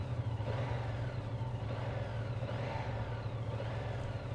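A 2025 Yamaha MT-07 parallel-twin motorcycle engine revs up and down in slow repeated swells, a steady mid-pitched drone rising and falling about four times.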